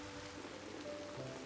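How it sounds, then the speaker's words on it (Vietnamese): Heavy rain falls in a steady, soft hiss, faint and unbroken, with no voices over it. "trận mưa lớn này gợi gắm sự tưởng niệm của chúng ta"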